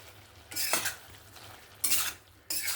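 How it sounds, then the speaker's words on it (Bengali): Mustard paste is stirred into a kohlrabi curry in a pan, three quiet scraping strokes of a spoon with faint sizzling between them. "সর্ষে বাটাটা দিয়ে ভালো করে মিক্স করে নেব"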